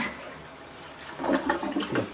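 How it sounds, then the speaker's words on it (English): A household toilet flushes after being cleaned, a close rushing swirl of water that builds and gurgles over about a second, with no talk. "clean the toilet, make sure it flushes"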